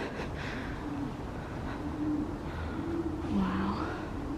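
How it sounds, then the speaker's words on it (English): Pigeons coo repeatedly in soft, low murmuring calls inside Cardiff Castle, faint and close-by, set against a steady background hum of the grounds in winter. "there's always pigeons living in every single castle I've been to"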